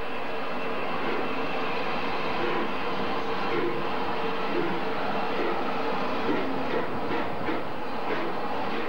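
Southern steam locomotive pulling a train away, a loud continuous rumble and roar of running rolling stock with faint rhythmic clatter building toward the end, no talk.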